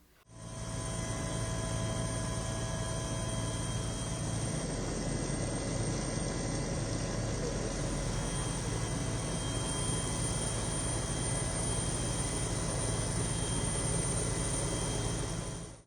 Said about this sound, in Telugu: వారిపై నిర్వాహకులు హెలికాప్టర్ల ద్వారా పూలవర్షం కురిపించారు